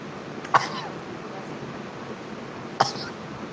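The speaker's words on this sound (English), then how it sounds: "oh, I'm gonna sneeze." A person sneezes twice, one sharp burst near the start and another a couple of seconds later, both close to the listener against a quiet room background.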